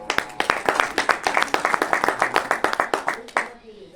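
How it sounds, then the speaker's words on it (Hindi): Clapping at a founding day ceremony of an Indian livestock breeders' association, with loud, close hand claps in a quick, even rhythm for about three seconds before stopping abruptly. "तो इस वजह से मैं चाहता हूँ कि एक जोरदार तालियों से"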